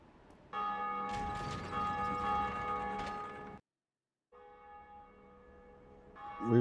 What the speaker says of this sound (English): we rang the first bell.